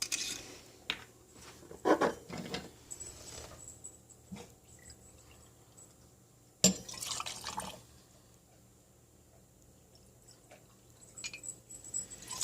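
Vodka poured into a mixing glass for a martini, heard as a few short splashing, dripping bursts between quiet pauses, close by and fairly faint.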